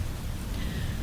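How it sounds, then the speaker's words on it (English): Heavy rain pouring down as a dense, steady hiss of broadband noise with a low rumbling undertone, constant throughout without any pause. "Despite how heavy the rain has drastically become"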